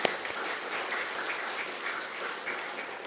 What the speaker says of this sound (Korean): 다시 한번 귀한 찬양 주신 우리 바울 남성교 회원분들에게 박수와 하나님께 영광의 박수 올려드리겠습니다.